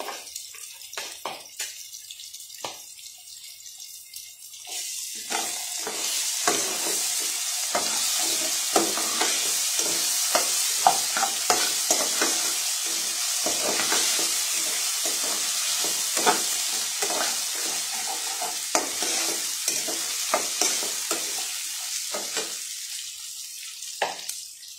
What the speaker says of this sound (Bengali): এভাবে আদা রসুনটা ফেটলে দিলে ফ্লেভারটা খুব ভালো আসে